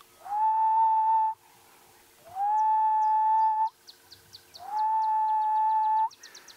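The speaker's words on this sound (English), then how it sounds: "We've got ring-necked doves going prop-prop, the gentle call of the ghost bird or grey-headed bushrike." A grey-headed bushshrike, the ghost bird, gives three long, clear, level whistles at a dawn safari in the African bush, each held about a second, with brief high chirps from other birds between them and no voices.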